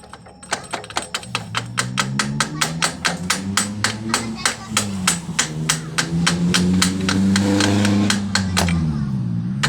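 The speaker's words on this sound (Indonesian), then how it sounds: "Kita lakukan pengelasan lagi supaya lebih kuat." Metal is worked on a motorcycle's rear shock absorber mount during welding repair, producing a rapid series of sharp, evenly spaced metallic taps like hammering or chipping. A low droning hum runs underneath, heard up close.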